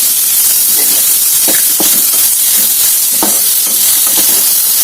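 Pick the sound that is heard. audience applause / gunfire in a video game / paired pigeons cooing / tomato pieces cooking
tomato pieces cooking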